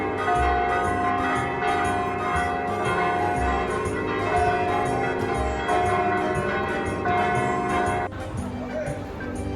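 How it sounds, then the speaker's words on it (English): Church bells in Florence, Italy, ring repeatedly for midday in a steady peal, rich and resonant, over faint street ambience, then the ringing drops away near the end. "the bells have just started ringing for midday."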